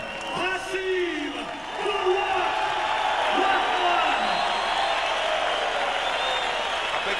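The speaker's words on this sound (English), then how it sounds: "A big round of applause" A boxing crowd applauds and cheers as a former heavyweight champion from Baltimore is introduced, a broad continuous roar of clapping and shouts with an announcer's voice over it at the start.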